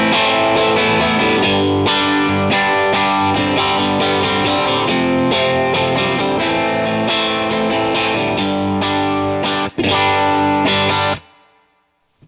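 Electric guitar runs through a Line 6 HX Stomp with no delay, a loud, driven, distorted riff of steady chords and notes, close and dry, with a brief gap near the end before it cuts to silence.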